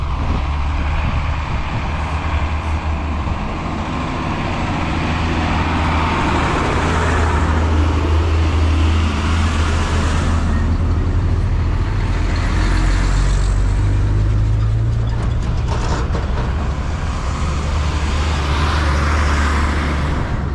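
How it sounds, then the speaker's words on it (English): On a scenic but dangerous road, trucks and cars pass one after another with deep rumbling engines and tire roar that swell and fade as each vehicle goes by, a steady loud traffic bed heard from the roadside. "The angle at which these trucks are coming is not quite safe"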